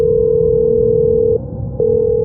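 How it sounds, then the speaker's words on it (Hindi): Steady electronic telephone tone, a loud continuous hum that briefly cuts out and resumes, heard alone as a call sound effect. "जब जासूस जेमसन को एक रहस्यमय फोन कॉल आया।"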